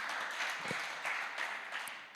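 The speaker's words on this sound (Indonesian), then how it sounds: "Kasih tepuk tangan bagi Tuhan." A church congregation applauds during a worship service, a steady wash of many hands clapping for about two seconds with no voices over it.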